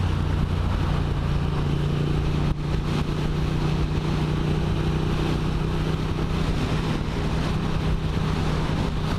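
Triumph Street Twin motorcycle cruising at 90 in fifth gear, a steady droning engine hum blended with heavy rushing wind noise, continuous and loud, no talk.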